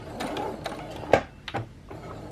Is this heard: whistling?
no